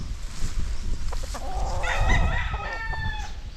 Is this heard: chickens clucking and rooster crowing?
yes